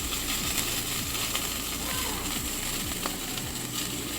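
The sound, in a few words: egg frying in a hole in bread in a pan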